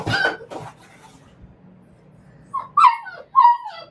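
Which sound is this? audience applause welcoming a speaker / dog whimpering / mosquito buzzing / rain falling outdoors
dog whimpering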